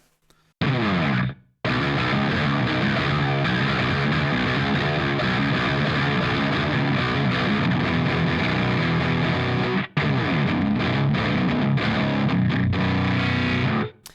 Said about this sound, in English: It's odd using this transpose knob behind a distortion pedal